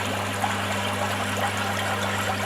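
With the waste valve of a Nexus pond filter opened, water drains in a steady trickling rush over a constant low mechanical hum, and no one speaks.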